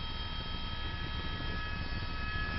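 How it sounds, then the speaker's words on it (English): A Los Angeles City or County Fire Department helicopter flying over the La Tuna brush fire at night gives a steady, continuous rotor and engine drone with a broad low rumble, holding constant throughout, with no talk. "Right there is a helicopter from either LA City Fire or LA County Fire."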